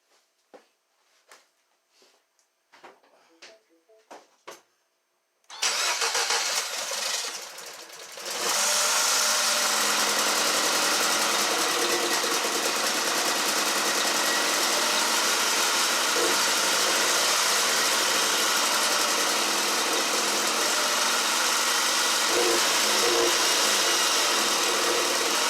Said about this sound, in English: So I'm going to start up now, and it should run smooth despite the oil leak.